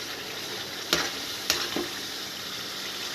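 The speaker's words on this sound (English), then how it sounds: "I'm just giving it a good stir." A spoon stirs an onion-based Indian restaurant sauce in a hot pan, a steady soft sizzle broken by two or three scraping strokes, close and fairly quiet with no talk.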